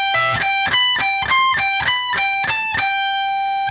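Distorted electric guitar plays a song section, a fast arpeggiated riff of evenly spaced picked notes ringing bright and loud, alone with no talk.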